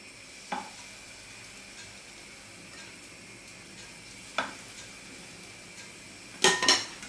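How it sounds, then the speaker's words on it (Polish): Onion pancakes frying in a pan: a steady low sizzle, close, with a few sharp clinks of a utensil against the pan and no voices. "dajemy niewielkie porcje i smażymy z jednej i z drugiej strony"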